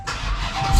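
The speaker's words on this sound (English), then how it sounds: "it's running really nice. I like how it idles." A Chrysler 300 fitted with a Hellephant engine idles nearby with a steady low rumble that swells slightly toward the end.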